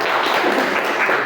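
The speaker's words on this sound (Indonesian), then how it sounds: "ya tepuk tangan untuk kelompok" A classroom group claps steadily in continuous applause after a group presentation, dense and even throughout.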